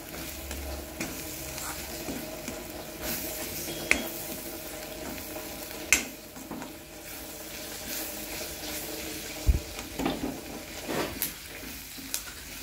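Masala with salt sautéing in a pan, with a steady soft sizzle under repeated spoon scrapes and a few sharper knocks against the pan, close and alone with no talk.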